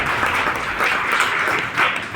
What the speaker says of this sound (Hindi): इसलिए इनके लिए जोरदार तालियां बजाइए